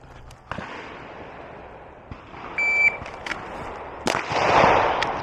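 Glock 47 pistol fitted with a Radian Ramjet fires at a shooting range target at five yards: several sharp, isolated cracks spaced a second or so apart, with a short electronic timer beep in between and no talking.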